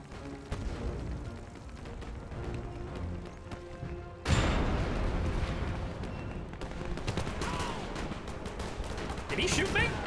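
Gunfire crackles in Men of War II, with rapid shots and bursts rattling throughout, then a louder, denser wave of firing and explosions. Someone talks over the battle noise.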